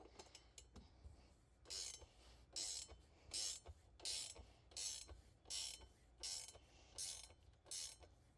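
A ratchet tightens boat seat fasteners during a 1989 bass boat rebuild, each stroke a rapid pawl clicking burst, repeated in a steady rhythm about ten times, close and fairly loud.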